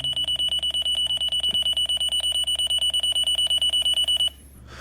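A digital thermometer beeps in a fast, steady series of sharp, high electronic pulses, close and loud, stopping abruptly after about four seconds.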